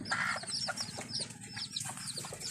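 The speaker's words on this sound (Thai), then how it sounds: "แม่พันธุ์ไก่ ไก่แจ้หรือว่าไก่สวยงาม" Bantam and ornamental breeder hens clucking in a farm pen, rapid overlapping clucks and short chirpy calls from several birds close by, continuous over a low background hum, with no talking.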